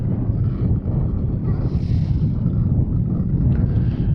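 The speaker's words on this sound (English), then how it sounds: "this wind is getting crazy" Strong wind buffets the microphone on a kayak while trolling lures for fish, a loud, constant low roar with gusting swells and faint water sounds beneath, no speech heard.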